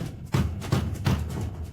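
Three dull thuds land on a door at an even, unhurried pace, close and moderately loud against a quiet room background.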